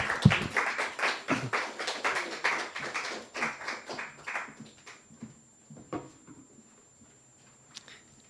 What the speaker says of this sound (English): Let's give a round of applause to Lin Nelson Benedek.